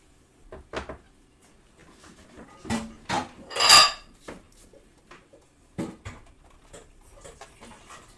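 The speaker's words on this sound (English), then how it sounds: "We're gonna get this pan out of here and bring over the Dutch onion." A cooking pan is lifted off a stovetop during hot pot cooking, giving scattered metallic clanks, knocks and scrapes at close range, with one louder clatter in the middle and quiet pauses between.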